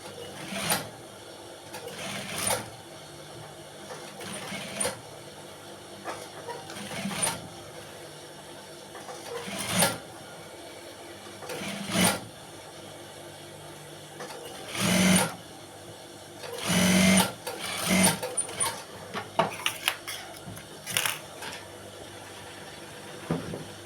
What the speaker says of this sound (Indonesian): kita jahit sedikit demi sedikit.